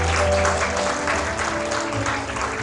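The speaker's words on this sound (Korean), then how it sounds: "박수로 배우분들 맞아주시기 바랍니다." An audience at a literary reading performance welcomes the actors with steady, dense applause throughout, a continuous wash of clapping with no voices on top.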